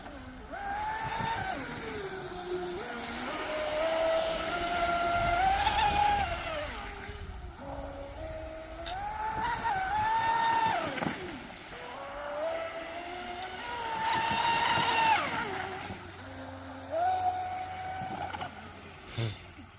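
A Traxxas Spartan RC speedboat whines at high speed from a distance. Its electric motor pitch rises and falls in repeated passes over a wash of water noise.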